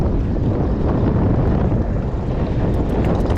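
Wind buffeting a microphone at a seawall while fishing for snook, a constant loud rushing roar with no letup across the short stretch.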